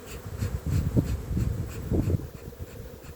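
Honeybees buzzing close around a nuc hive sitting atop a double screen board, a steady low drone with louder swells as individual bees pass near, continuing alone without talk.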